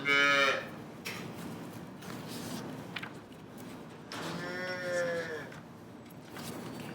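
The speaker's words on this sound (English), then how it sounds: "story called Cows Can Moo, Can You" Cattle mooing on a farm: two drawn-out, loud moos, one at the start and another midway, over a steady background hum with no talk.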